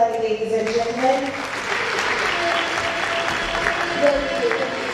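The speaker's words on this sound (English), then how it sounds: "Let's give him another warm round of applause." An audience applauds warmly at a speaking event. The clapping is dense and steady, and a voice speaks briefly over the opening moments.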